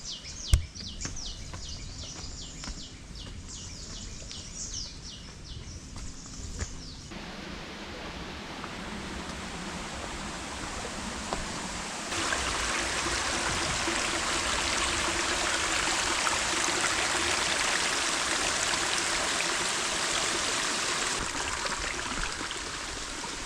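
Waterfall-fed stream water rushes steadily on a monsoon jungle trek near Badlapur, a broad hissing flow that swells louder midway; birds chirp near the start and no one speaks.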